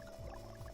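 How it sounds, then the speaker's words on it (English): Fresh water pouring into a bucket in the Autonauts video game, a short soft fill lasting under a second, quiet and on its own. "I think that should fill it completely"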